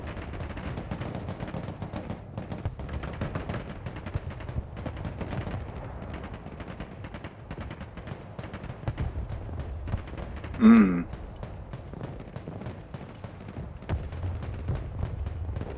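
Artillery fire in Broken Arrow, a real-time military strategy battle, rumbling steadily at a distance with scattered thuds and crackles of gunfire, one brief louder burst partway through.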